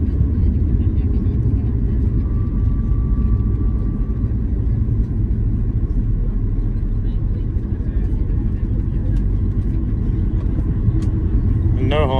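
Norwegian Boeing 737-800 rolling out after landing at Stockholm Arlanda with idle reverse thrust and carbon brakes, a heavy steady low rumble and roar from inside the cabin, constant and loud throughout.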